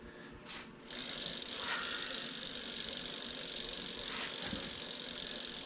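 A freshly seated wheel on a 1970 Schwinn Collegiate bicycle spins freely, giving a steady whirring hiss with a faint ticking freewheel, close by and continuous after a short start.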